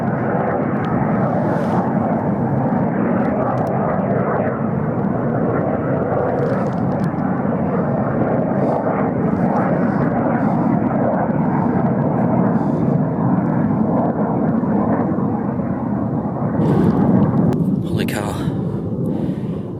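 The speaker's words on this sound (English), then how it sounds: "they're definitely fighter aircraft" A continuous loud roar of fighter jet engines rumbles overhead, swelling slightly near the end, with faint voices underneath.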